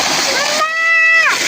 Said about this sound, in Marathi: हे बघा हे फाउंटेन कसं पाणी वाहत आहे बघा